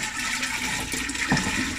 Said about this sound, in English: Now I'm okay to go ahead and throw in boiling water in here.